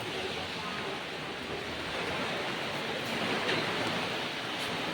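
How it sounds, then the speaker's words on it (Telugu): Steady, dense roar of heavy rain falling, a continuous broadband hiss that swells slightly and never pauses. "పెద్ద వర్షం పడుతుంది కదా"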